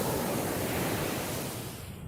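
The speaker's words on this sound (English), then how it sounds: "This will be my first time to actually enter the Pacific Ocean." Pacific Ocean surf washes onto the shore as a broad, continuous rushing roar that stays close and full, easing slightly toward the end, with no voices.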